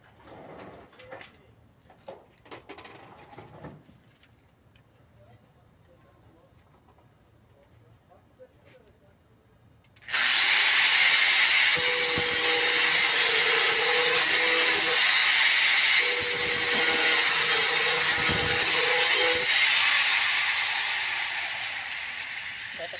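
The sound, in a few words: angle grinder with cutting disc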